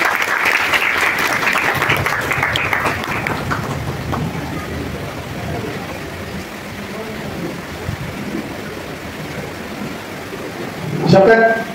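Students at a paramedical institute convocation ceremony in Thane clap for the non-teaching faculty, dense applause filling the hall for several seconds before thinning into murmuring voices and scattered claps, with a brief louder burst at the end.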